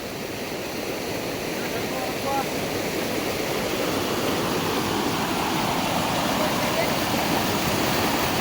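Waterfall in a jungle, strong flowing water roaring as a dense, continuous broadband rush close by, with no breaks.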